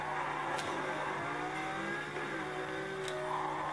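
A racing car in Need for Speed Carbon drives at speed, its engine droning steadily and climbing in pitch as it accelerates, loud and continuous, with a couple of brief sharp clicks over it.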